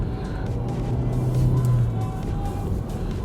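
Volkswagen Golf 7 hatchback with a 1.2 TSI petrol engine pulling in traffic, a steady close engine drone inside the cabin that swells and rises slightly in pitch mid-way before settling, with no talking over it.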